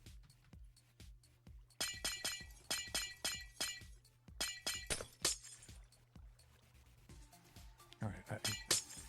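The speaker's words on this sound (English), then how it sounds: "there is the constant, relentless sound of breaking glass" Breaking glass in Minecraft sounds in rapid, repeated shatters over a low steady hum, a relentless clinking series of short crashes, some clustered, running throughout about nine seconds.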